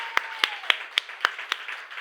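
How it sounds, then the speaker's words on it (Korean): A church congregation claps in praise during a Sunday service, seven or so sharp, evenly spaced claps in a quick steady rhythm, fairly close and clear. "우리 주님께 감사와 찬양과 영광의 박수 올려드립니다"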